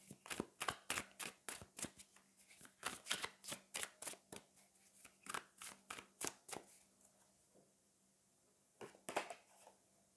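Tarot cards are shuffled in quick, crisp bursts of riffling and snapping, a fast, steady run of papery clicks close up, pausing briefly before one last short flurry as a card is drawn.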